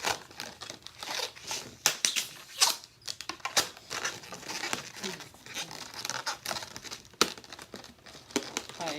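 A latex balloon being twisted and tied into a pinch twist for an ostrich balloon animal gives dense rubbery squeaks, crinkles and rubbing scrapes, close and fairly loud, in irregular bursts with no voice.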